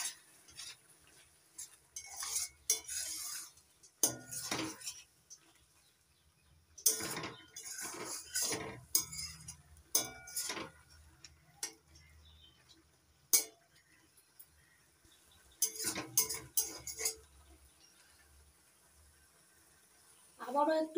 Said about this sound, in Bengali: নাড়াচাড়া করে চিনিটা ভালো করে মিশিয়ে নিচ্ছি।